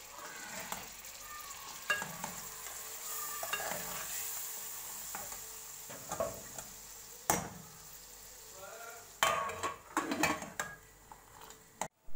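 Brain masala with yogurt sizzles and is stirred in a pan: a continuous fry hiss with scraping spoon strokes and occasional sharper clatters of utensil against the pan, close and fairly quiet.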